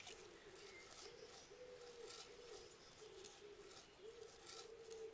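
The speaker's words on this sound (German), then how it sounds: "Oh, die haben so das Taubengurren richtig reingekriegt." Pigeons coo repeatedly in the medieval video game Kingdom Come: Deliverance, a steady run of soft, low, rolling calls, moderately close, over a faint hiss of background ambience with no talking.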